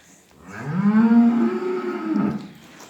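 A single long, deep moo from a heifer or cow on a farm, rising and then trailing off, close and clear against a quiet background.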